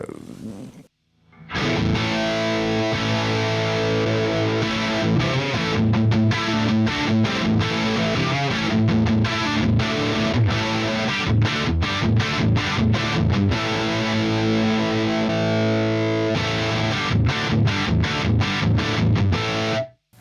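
Electric guitar with a shimmering chorus effect, strummed chords ringing steadily and loud, with brief choppy gaps between strums, no voices.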